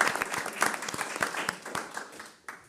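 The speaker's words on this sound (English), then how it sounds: "Can we get a big round of applause?" An audience at a community talk gives a short burst of clapping, moderately near and uneven, fading over a few seconds.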